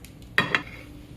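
Serving spoon scraping and clinking against a plate as okra and peas are dished out for a home-cooked chuck roast supper; two quick close clatters, then quiet kitchen background.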